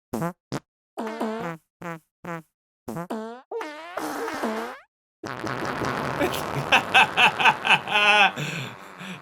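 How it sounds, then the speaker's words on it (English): Fart sounds from the Soundiron Flatulous sample library, a string of separate short and drawn-out squelchy blasts with gaps between, then a long dense rippling run of stacked farts played loud and close. "It's a library of farts."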